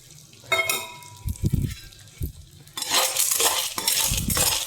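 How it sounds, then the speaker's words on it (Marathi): Edible gum (dink) roasts and puffs in hot ghee in a pan for Janmashtami ladoos, with soft sizzling and crackling, metallic clinks and scraping of a spoon stirring against the pan nearby. "आता या तुपामध्ये मी हे सगळे जिन्नस भाजून घेणार आहे."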